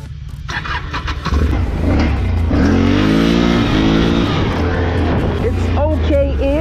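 A Can-Am Renegade XMR 570 ATV in low gear revs hard for a wheelie, the engine rising from idle into a loud sustained roar with shifting pitch, then dropping back near the end.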